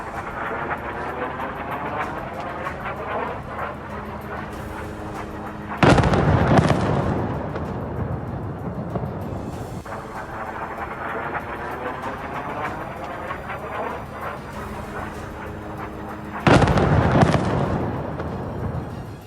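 Two loud, sudden blasts from air strikes in southern Lebanon break through a continuous rumbling, roaring background, each burst lasting about a second, heavy and booming.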